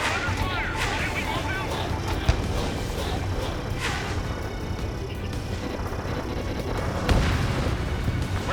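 Ace Combat 7 ground targets blow up as booming explosions amid a dense roar of jet and combat noise, with a few sharper blasts standing out and a voice speaking over the din.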